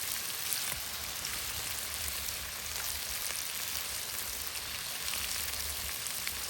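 Thick bacon frying on an outdoor cooker, a steady, soft crackling sizzle with no one talking.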